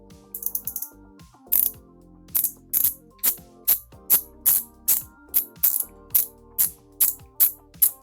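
A KastKing Valiant Eagle II baitcasting fishing reel being loosened gives about a dozen evenly spaced bursts of sharp ratchet clicks, close up and alone.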